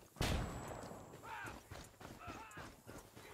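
A flashbang goes off in Ghost Recon Wildlands, a sudden loud bang early on followed by a ringing tone and scattered game sounds, with voices under it.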